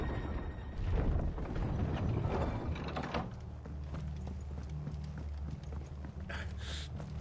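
Horse hooves clip-clop in the video game Final Fantasy XVI, with rhythmic knocks against a rumbling game background and a brighter burst near the end. No one speaks.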